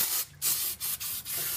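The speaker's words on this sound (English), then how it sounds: "Now we're just cleaning out with some brake fluid now." Brake fluid sprayed from an aerosol can to clean truck parts during a drift truck build: close, hissing spray bursts of about a quarter second each, with four short breaks between them.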